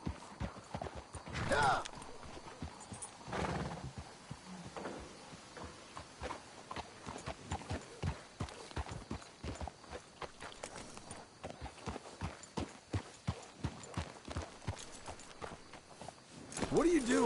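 Horse hooves in Red Dead Redemption, a quiet steady clip-clop of horses walking throughout, with a short vocal exclamation near the start and soft snorting in places.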